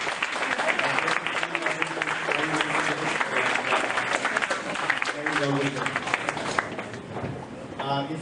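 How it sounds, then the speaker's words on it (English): An audience at a medical lecture on lowering LDL cholesterol gives a big round of applause, dense sustained clapping with crowd noise and some talk underneath, easing slightly at the end. "let's give them a big round of applause"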